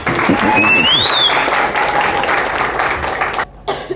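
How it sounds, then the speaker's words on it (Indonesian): Applause for an electric car team at a university engineering faculty, a thick burst of crowd clapping with a whistle sweeping upward early on, fading and cutting off abruptly near the end. "Boleh kasih tepuk tangan buat mereka nih"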